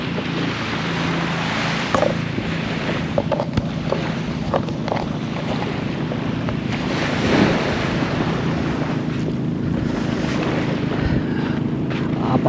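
Sea waves wash steadily along a shore with constant surf and wind buffeting the microphone, a continuous loud rush with no talking.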